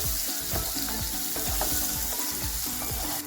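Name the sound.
chopped tomato and onion frying in pan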